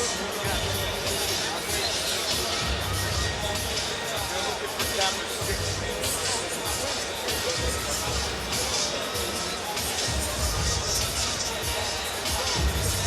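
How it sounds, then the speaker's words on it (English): Crowd murmur fills T-Mobile Arena in Las Vegas before the Mayweather vs McGregor boxing fight, a steady dense hubbub of many voices with scattered shouts, continuous and moderately loud throughout. "So the crowd begins to fill in here at the T-Mobile Arena"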